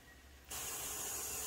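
Chiles rellenos with meat filling drop into very hot oil and burst into a loud, sudden sizzling hiss that stays steady and bright after a quiet start.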